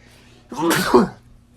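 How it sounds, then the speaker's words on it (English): A single person sneezes once, close and loud, a sharp burst with a brief intake before it, alone in an otherwise quiet room. "I'm just going to keep the sneeze in the video"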